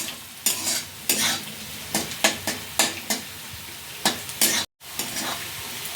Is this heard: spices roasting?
yes